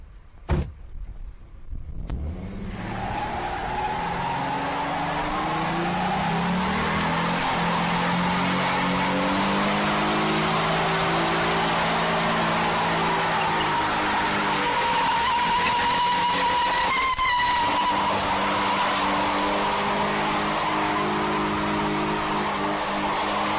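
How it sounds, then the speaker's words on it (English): A 2011 Ford Mustang V6 doing a burnout, its engine roaring at high revs while the tires squeal and smoke in one long sustained howl that rises in pitch, loud and close. "I'm going to smoke some tires."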